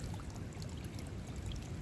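Spring water running steadily out of the end of a pipe outdoors, a continuous soft splashing stream heard close and alone at low volume.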